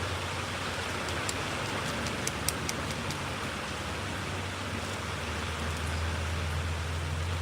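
Rain falls steadily outdoors, a dense, even wash of patter that stays constant throughout, with a faint low drone underneath and occasional sharper drips standing out.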